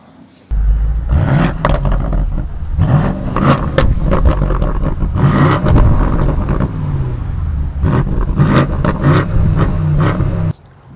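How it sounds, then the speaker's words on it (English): A BMW M850i Gran Coupe starts up with a sudden loud exhaust bark, then burbles and revs repeatedly, rising and falling close by with no talking, before cutting off abruptly near the end. "if you want to hear the exhaust, I'm going to turn this car on right now and you got to hear this baby gargle"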